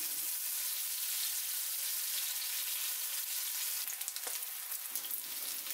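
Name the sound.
pomfret fish pieces frying in a pan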